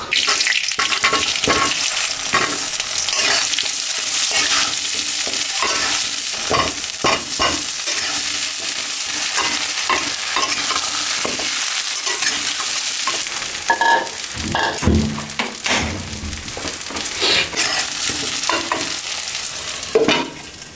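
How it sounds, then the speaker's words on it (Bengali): Potatoes frying in hot mustard oil in a pan sizzle loudly and continuously, with frequent stirring scrapes and clatters close by. "সরিষার তেল দিয়ে দিচ্ছি এখন আলুটাকে ভেজে নিব তেলটা গরম হোক"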